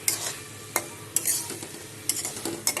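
Fried eggplant goes into a pan of frying lote fish with raw mustard oil, bringing a low sizzle punctuated by several sharp spoon clacks and scrapes at uneven intervals, close by and without speech.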